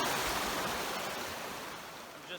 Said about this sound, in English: I'm just walking along the river right now, trying to figure out where we're gonna cross it.